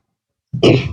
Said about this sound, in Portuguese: É como se eu estivesse a limpar a minha garganta.